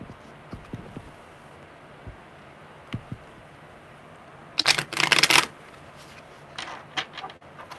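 A deck of tarot cards handled with scattered light taps, then one loud riffle shuffle burst in the middle followed by softer shuffling sounds, close and clear.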